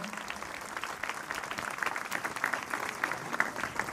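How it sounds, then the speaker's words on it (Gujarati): An audience at a district-level maths, science and environment exhibition applauds, a fairly distant, steady patter of many hands clapping throughout. "આપણે જોરદાર તાળીઓથી સન્માનને વધાવીએ."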